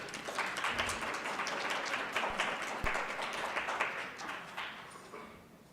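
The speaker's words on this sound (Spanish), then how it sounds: "Y pues un aplauso" A seated audience at a panel on collective initiatives against violence toward women gives a round of applause, moderate clapping that holds steady and then fades out, heard at a slight distance.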